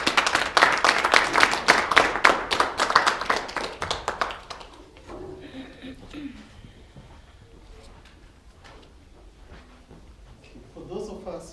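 A burst of audience applause at an awareness event on debt bondage, loud and rapid for about four seconds before thinning into scattered claps, with faint murmuring and a voice beginning at the end.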